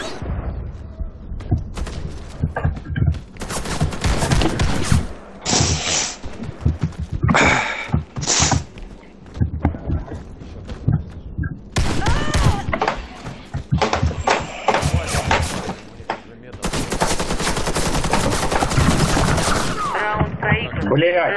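Gunfire in the Warface video game comes in loud, close bursts of rapid automatic fire broken by short gaps and single thuds, with game sounds throughout.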